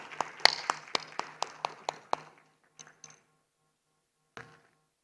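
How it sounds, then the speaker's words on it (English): A handful of sharp, evenly spaced claps for a CEO being welcomed onto the stage at a human capital summit, about nine in quick succession before thinning to a few scattered claps and silence. "Please can we give her a round of applause?"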